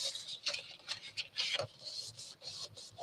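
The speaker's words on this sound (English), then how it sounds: "burnish it down, and then fold it back the other way and burnish it down," Paper fold on a junk journal binding being burnished down with a tool: close, soft rubbing strokes rasping back and forth in quick repeated passes, faint and alone.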